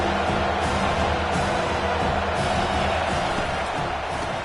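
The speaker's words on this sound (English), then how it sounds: "This crowd bringing the energy and noise early." Stadium crowd noise from a Colorado versus Florida matchup in the College Football 25 video game, a steady, dense roar of cheering that holds at an even level without letup for the whole stretch.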